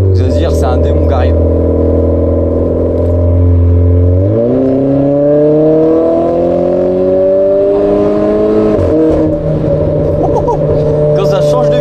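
Renault Clio RS Trophy Stage 1 with 260 hp pulling hard at low speed, a loud close engine drone rising in pitch, dropping at a gear change, then climbing again, with occasional talk over it.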